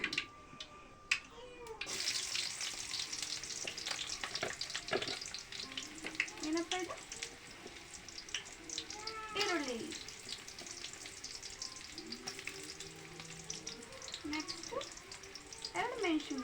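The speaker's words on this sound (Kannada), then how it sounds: "ನೆಕ್ಸ್ಟು ಈರುಳ್ಳಿ ಹಾಕೋದು" Onions sizzling and frying in a pan with mustard seeds in a home kitchen, a steady broadband crackle after a quiet start, with scraping stirs and light clatter throughout and faint speech in the background.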